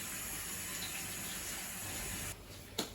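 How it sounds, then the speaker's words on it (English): Tap water runs steadily and fairly loud at a kitchen sink while hands are washed during baklava making, then cuts off near the end, followed by a brief splash. "So wash the hands."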